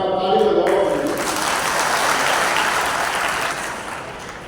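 A crowd of farmers claps at a natural farming dialogue event, a loud burst of applause that slowly fades over a few seconds, with a speaker's voice heard at the start.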